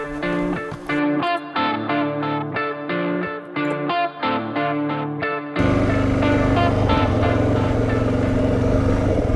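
A Suzuki DRZ400 dual sport motorcycle pulses in choppy, stuttering bursts, then settles into a loud, continuous roar and rushing noise as the ride gets underway.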